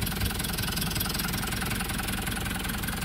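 A Mitsubishi Canter 4D35 diesel engine with a fully manual injection pump idles steadily at close range, a continuous low rumble with a faint knocking rhythm and no talk over it.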